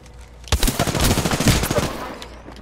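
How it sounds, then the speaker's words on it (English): Rapid bursts of automatic gunfire from a video game crackle loudly in a quick rattling volley lasting about a second and a half, then taper off, with no talking over them. "Listen up, I'm getting shot at."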